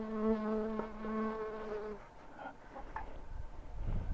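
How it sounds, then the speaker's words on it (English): A bee buzzes right at the camera during an outdoor wheelbarrow repair, giving a close, steady droning hum for about two seconds before fading into quieter outdoor noise. "And there's a bee."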